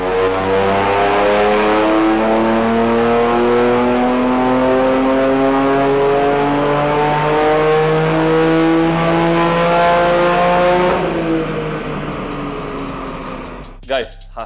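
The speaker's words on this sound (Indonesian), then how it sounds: "langsung aja kita dyno kondisi ECU standar dengan parts begini" A Toyota GR Yaris with stock ECU runs on a dyno, its engine climbing steadily in pitch through a long loud pull, then dropping off and fading to a quieter idle at the end.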